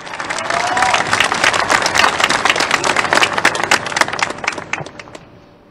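A large crowd at the inauguration of a lithium carbonate industrial plant applauds the Minister of Hydrocarbons and Energy with strong, sustained clapping and some cheering that swells, holds, then fades out near the end.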